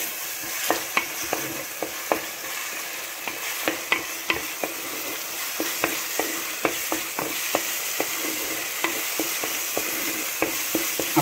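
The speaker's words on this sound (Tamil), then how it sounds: "இப்போ இதையும் சேர்த்து நல்லா இதை ஃப்ரை பண்ணிக்கிங்க" Tomato egg masala fries in a pan with a splash of water, a constant sizzle broken by regular spatula taps and scrapes, roughly one every half second, close and clear.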